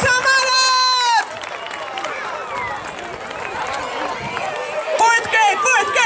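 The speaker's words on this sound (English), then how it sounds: "Round of applause" A school crowd at a pumpkin drop event claps and cheers in a steady, fairly loud wash of applause, following a brief announcer's voice at the start, with voices mixed through it.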